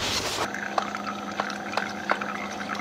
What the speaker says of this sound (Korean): 와, 졸졸졸졸 소리가 나.